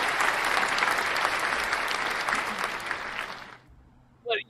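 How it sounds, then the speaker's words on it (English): A studio audience gives a dense round of applause for about three and a half seconds during a comedy podcast episode, then the clapping cuts off abruptly, leaving a brief pause before a short vocal sound. "Round of applause for that."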